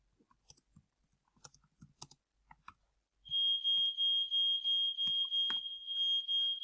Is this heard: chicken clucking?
no